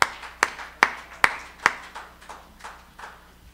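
A comedy club audience claps for a comedian in a few sparse, loud, evenly spaced claps that quickly thin out and trail off into a faint scatter.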